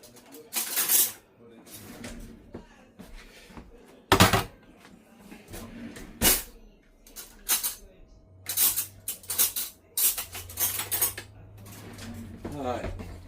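A spoon being fetched from a kitchen drawer, metal cutlery clattering and clinking in several sharp bursts, with softer rattles and a low hum between them.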